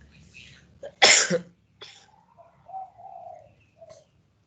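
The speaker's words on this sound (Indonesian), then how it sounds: "Ini mohon maaf saya agak sedikit batuk." A single sharp cough near the mic, followed by a softer throat noise and low murmuring vocal sounds.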